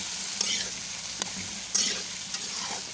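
Cauliflower and potato pieces stirred in a frying pan, a constant close sizzle punctuated by a few crisp scraping knocks of the spoon at uneven intervals.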